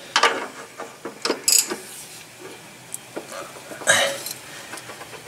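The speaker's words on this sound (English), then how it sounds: "Where's my ratchet?" A ratchet wrench working on a stuck pulley of a Grasshopper 126 mower, giving short bursts of close metallic clicking at irregular intervals with quiet pauses between.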